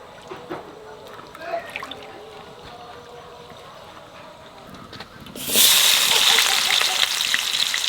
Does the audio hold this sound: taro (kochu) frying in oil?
yes